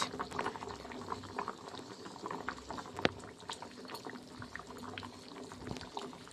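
Bhetki fish curry bubbling and simmering in a pot, a steady close wash of soft boiling and liquid sounds with small pops, no talking.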